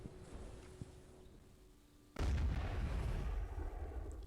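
Cannon fire from a ship in Black Desert Online during a guild boss fight: a sudden loud deep boom about halfway through, followed by sustained rumbling low roar, with a quieter low ambient hum beforehand.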